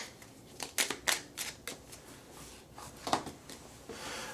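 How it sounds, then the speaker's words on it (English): Oracle cards are shuffled by hand in a run of crisp, close riffling bursts with brief pauses between them, and no one speaks. "Let's go ahead and shuffle."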